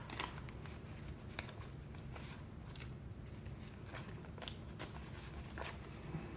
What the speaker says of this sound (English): I'm going to take out some of these smaller bills, because they're making the envelope really thick